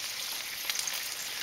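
Bacon pieces fry in a pan for fried spaghetti, giving a short, soft, even sizzle with a couple of faint scraping touches as they are stirred.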